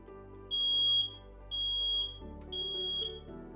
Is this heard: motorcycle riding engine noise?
no